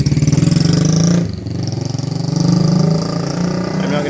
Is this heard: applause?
no